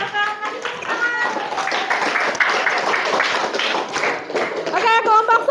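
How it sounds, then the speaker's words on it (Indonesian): A classroom group clapping, scattered uneven hand claps building into a loose round of applause with voices talking over it near the end. "Silakan kasih tepuk tangan"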